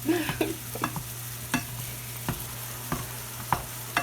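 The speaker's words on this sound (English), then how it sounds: "we'll let that start cooking" Meat sauce starts cooking in a pan with a soft, steady sizzle, broken by repeated spoon clinks and scrapes against the pan, close and alone without talk.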